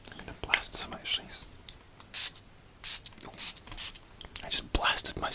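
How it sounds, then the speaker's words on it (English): A perfume bottle is sprayed close to the microphone several times in a quiet ASMR setting, giving sharp hissing bursts separated by pauses, with soft whispering and small handling clicks between them. "I'm going to blast some actually"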